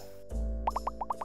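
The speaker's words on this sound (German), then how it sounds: "Nimm den Korken aus einer kleinen Flasche." A cork pops out of a small bottle with a single deep pop, followed by a quick series of light, bubbly plopping sounds, close and clear.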